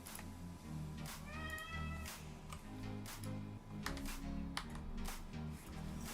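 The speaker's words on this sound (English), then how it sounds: "I can hear him meowing." A pet cat meows nearby in a quiet room, with a few drawn-out, rising calls. Soft clicking from computer keys runs through the background.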